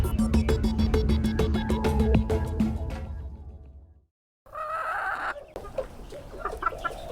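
Hens at a poultry fair in Bourail, with rapid repeated clucking and cackling close by, then a brief silence, then more scattered clucks over a busy background.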